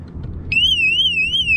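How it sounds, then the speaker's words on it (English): A Bombmoto B1V1 motorcycle alarm starts up halfway through: a loud, close, wavering electronic siren tone that rises and falls repeatedly after a brief low background hum. "Alarm is on. Alarm is armed."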